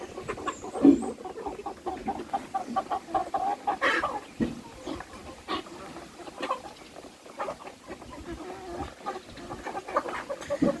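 Chickens being raised for meat, about 3 kg each, cluck and cackle steadily at close range, with one louder squawk near the start and a busy coop murmur throughout.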